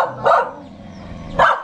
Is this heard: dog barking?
yes